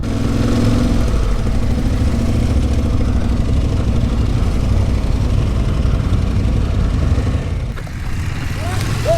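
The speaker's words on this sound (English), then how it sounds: "Here is someone falling off their motorcycle." A motorcycle engine drones loudly and steadily, then dips briefly as the rider falls off, followed by a couple of faint voice sounds near the end.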